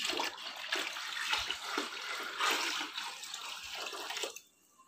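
Well water pouring into a 7-liter container, a continuous splashing gush for over four seconds that stops abruptly near the end, leaving quiet.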